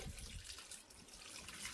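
Water streaming steadily onto freshly transplanted avocado seedlings, a continuous soft splashing and trickling with no voices.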